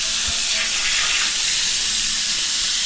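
A faucet fed by a booster pump runs at strong pressure at a home plumbing project in Sison, Pangasinan, giving a loud, steady rushing hiss of water with no other sounds.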